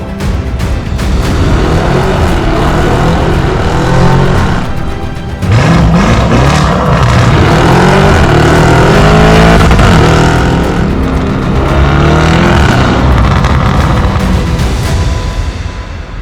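Lamborghini Urus fitted with a Novitec exhaust system, revving hard and loud nearby in a continuous roaring burst, with a brief dip before the engine climbs again and holds.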